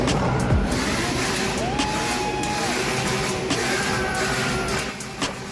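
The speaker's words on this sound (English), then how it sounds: "this guy answers with a rev so mighty, the smoke cloud probably has its own weather forecast" A heavily modified, smoke-belching diesel engine revs in a steady, loud, continuous roar with a brief pitch sweep partway through, heard up close with nothing else over it.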